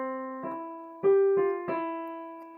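A short melodic idea of about five plucked, keyboard-like notes played at a moderate pace, each note ringing and fading, clear and alone.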